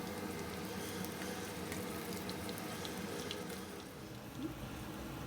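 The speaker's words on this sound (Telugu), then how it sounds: "ఈ బజ్జీల్ని మంచిగా మనకు కావాల్సిన కలర్ వచ్చే వరకు క్రిస్పీగా అయ్యేంత వరకు నిదానంగా ఫ్లేమ్ లోలో పెట్టుకొని వేయించుకుందాము" Chili bajji fritters deep-frying in oil on a low flame, a steady, even bubbling hiss that stays continuous and moderately loud, with no talk.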